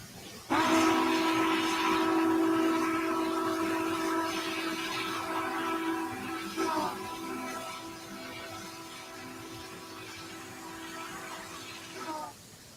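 A DDA40X diesel locomotive, number 6936, in a train video game on the Wasatch grade, with a steady engine drone and a sustained multi-tone horn blast that runs nearly the whole time and ends abruptly.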